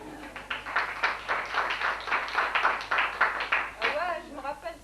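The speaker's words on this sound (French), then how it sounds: "On l'applaudit bien fort." Scattered clapping from a small group at a French gathering, uneven and moderately close, broken into irregular bursts, with a voice breaking in near the end.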